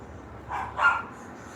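A dog gives two quick barks close by, the second louder than the first, in an otherwise quiet indoor setting.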